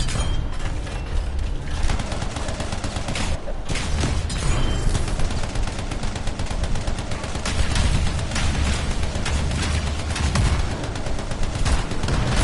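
Sustained gunfire at an enemy in the video game Anthem, a dense, loud, continuous stream of rapid shots and impacts lasting the whole stretch without pause.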